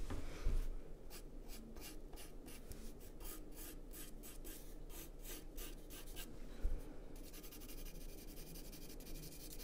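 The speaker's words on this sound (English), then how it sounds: "Now, if I take a black charcoal pencil," A black charcoal pencil shades across paper in quick, close scratchy strokes, rhythmic bursts of dry rubbing with brief pauses, quiet and with no voices.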